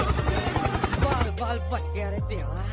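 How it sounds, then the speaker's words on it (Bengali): A helicopter's rotor chops in a quick, steady pulsing rhythm for about a second, then gives way to sustained tonal, voice-like harmonics, all fairly loud and close. "helicopter helicopter"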